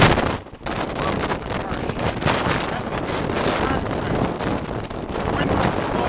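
Strong wind gusts roar and buffet the microphone during a 2011 snow storm over the Edens expressway, a loud, continuous rushing blast with only a brief dip near the start.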